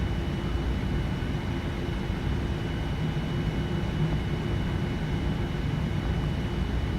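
A Boeing 787-9 airliner taxis in the FSX flight simulator, heard as a steady, loud, even jet engine drone with a low rumble and no change in level throughout.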